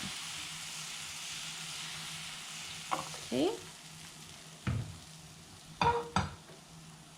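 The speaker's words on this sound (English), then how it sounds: "Can hear it sizzle, and the aroma is different as well because we're using ghee and not butter." Curry fries in ghee with a soft, steady sizzle and hiss in a home kitchen, broken by a few clinks and stirring knocks, and a brief spoken word.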